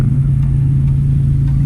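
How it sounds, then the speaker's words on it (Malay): A car engine started by remote auto-start after a push-start button install, running at a steady idle with a low, continuous rumble, close by and alone. "Kereta auto start sendiri."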